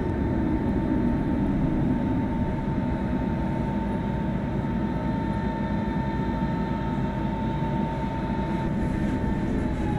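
A train in Train Simulator Classic rolls out on a Berlin ring line near Ostkreuz, a steady loud rumbling drone with a faint tonal whine, continuous for the whole stretch without speech.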